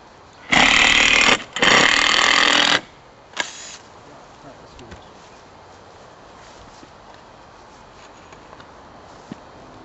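A power drill drives exterior screws into a wooden cold frame for a raised garden bed, with two loud sustained whirring bursts close by, then a short third burst, followed by quiet ambient noise.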